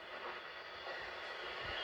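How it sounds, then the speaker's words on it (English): Animated steam locomotive arriving at a station, a steady broadband hiss and rumble of the train with faint low chuffs, fairly quiet and without talk. "At that moment, Percy puffed in after delivering the mail train."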